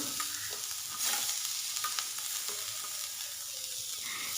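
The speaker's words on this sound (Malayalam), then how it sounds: "ഇതിലേക്ക് 1/2 കപ്പ് തേങ്ങ ചേർത്ത് കൊടുക്കാം. ഇതൊന്ന് മുപ്പിച്ചെടുക്കാം." White chickpeas and grated coconut dry-roasting in a pan, with steady stirring scrapes and a faint crackling sizzle throughout, no voices.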